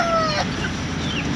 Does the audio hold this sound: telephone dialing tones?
no